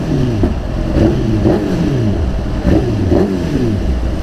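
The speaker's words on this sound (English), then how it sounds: "Trying to keep the revs down now, because they can probably hear my bike" A modified BMW S1000RR motorcycle engine revving close by, its pitch rising and falling in steady repeated swells over a continuous rumble, with no voices.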